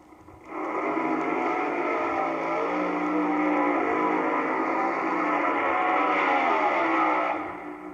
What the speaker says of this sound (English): this is your top fuel eliminator coming down on a single run, a rear engine car